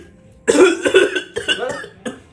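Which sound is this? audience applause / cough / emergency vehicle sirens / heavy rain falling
cough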